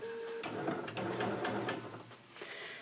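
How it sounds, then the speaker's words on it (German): A sewing machine fitted with a twin needle runs briefly to tie off its threads, giving a quick, close mechanical whirr with a few rapid stitch ticks. "drücke mit der Ferse lang auf das Fußpedal. Dadurch werden die Fäden vernäht."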